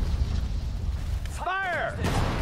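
Artillery guns fire in the WWII strategy game Sudden Strike 4, with booming blasts over a constant roar of battle and a brief shouted voice in the middle.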